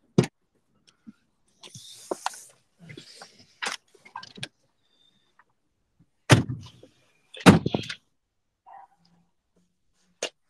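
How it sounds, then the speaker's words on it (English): A 2002 pickup truck door is handled, with a few scattered thumps and latch clicks followed by two louder, sharper bangs, close and with quiet gaps between them. "you know how to open the door from the back first, and so everything will open"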